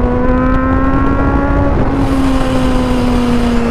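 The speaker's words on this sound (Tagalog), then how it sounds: "Ang daming sasakyan, grabe." Heavy road traffic heard during a ride along Balete Drive: a loud, steady engine drone with a held tone that shifts slightly in pitch, with no talking.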